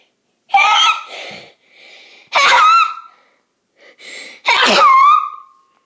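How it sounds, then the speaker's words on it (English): Three loud sneezes, each preceded by a sharp inhaling gasp, spaced a second or so apart and very close. "I was sneezing."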